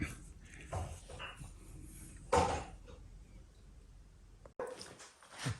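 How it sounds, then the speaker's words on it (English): Puppies whimper and give a couple of soft barks in a quiet workshop space, faint and scattered, with shuffling and a sharp bump between the cries. "There's the puppies."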